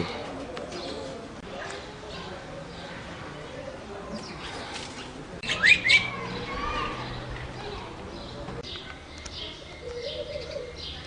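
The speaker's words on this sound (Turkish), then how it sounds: "Kumrular geliyor onları doyuruyoruz." Turtle doves coo faintly in a home garden among roses and grapevines, soft and somewhat distant under a light outdoor background hiss.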